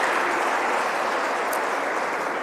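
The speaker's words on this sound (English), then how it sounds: "Can we give her another big round of applause?" Steady applause from an audience at a Cyril Ramaphosa Foundation event fills the space, a dense wash of many hands clapping without pause.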